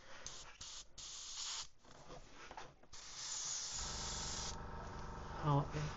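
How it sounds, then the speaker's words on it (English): An airbrush sprays brown paint onto a lipless crankbait, making a close, steady hissing spray in bursts and then a longer continuous pass, with a person talking over it. "How it sprays, and we'll go over the back and actually go along the lines and make a nice first layer of color"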